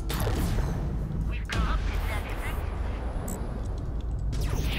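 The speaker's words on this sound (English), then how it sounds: "Firing some missiles." Missile fire from a spaceship in the space combat game Fractured Space: a dense, continuous roar of launches and booms, with sharp bursts near the 1.5 and 4.5 second marks, loud and close, under steady game noise and some talk.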